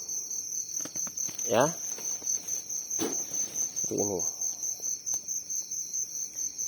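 Farmed crickets kept in a sack give off a constant high, pulsing chirr that runs all the way through, beneath someone talking intermittently.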